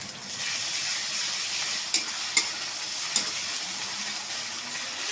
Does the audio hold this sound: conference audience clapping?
no